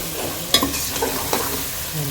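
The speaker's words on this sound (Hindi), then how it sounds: "अब इसकी अच्छे से भुनाई करूँगी चिकन की, मसालों के साथ इसको अच्छे से भून लेंगे।" Chicken being roasted with spices in a pan for a cauliflower-chicken dish sizzles steadily, with a few sharp scraping stir strokes on top, close and moderately loud.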